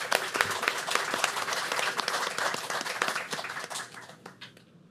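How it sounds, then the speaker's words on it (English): Audience at a school board meeting clapping as an elementary school nurse is recognized, a moderate crowd's steady applause that fades out toward the end. "Let's give her a round of applause as she comes in."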